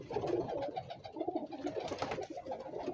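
Star pigeons kept as a breeding group coo steadily, several birds layering soft throaty calls close by, with no voices over them.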